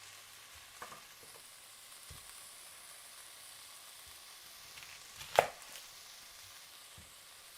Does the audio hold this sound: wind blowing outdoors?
no